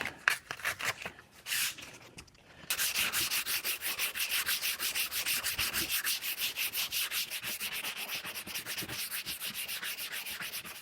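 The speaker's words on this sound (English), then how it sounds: "I'm going to take some 180 grit and finish that off with 180." SMART Ultra Premium body filler being sanded with 180 grit sandpaper, close rhythmic rasping strokes in a steady back-and-forth beat after a few uneven scrapes, alone with no talking.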